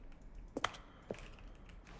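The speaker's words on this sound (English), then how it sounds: "Each sound is a mix of keyboard stroke and a synthesized tone" Stanley Parable Ultra Deluxe button press, a keyboard keystroke blended with a synthesized tone, heard as two or three quiet clicks, one sharper and brighter, over low background hiss.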